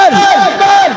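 A crowd at a devotional kalam recitation answers the Nara-e-Takbir call with a loud, massed chant of many voices, rising and falling in repeated swooping cries close by.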